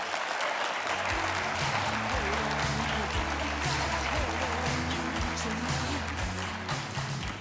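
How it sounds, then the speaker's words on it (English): A studio audience at a live morning TV show applauds Alvin "Big Al" Heggs of Heggs Automotive, a steady, full wash of clapping that holds loud and close for the whole stretch, with low music tones running beneath it. "How about a big round of applause for Mr. Alvin Heggs, Big Al Heggs"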